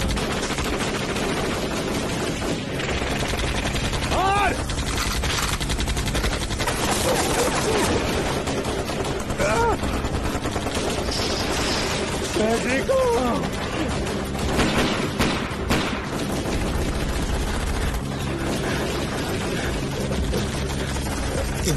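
Gunfire sprays down from a helicopter in a TV crime drama, dense bursts of automatic shots and impacts layered with music and engine roar, loud and continuous throughout.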